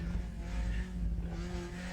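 A BMW touring car in Raceroom gives a steady, moderately loud engine drone with a low exhaust burble, running alone with no speech.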